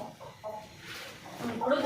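A native country chicken, held for slaughter, clucks a few times, soft and close, amid background murmuring and faint rustling.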